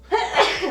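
A single sharp human sneeze bursts out close and loud, a quick two-part huff lasting under a second, with no talk over it.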